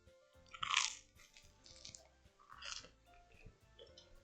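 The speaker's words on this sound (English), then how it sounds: "I'm eating peanut butter toast." Close, quiet chewing of peanut butter toast, with several distinct crunchy bites spaced over a few seconds and soft mouth sounds between them.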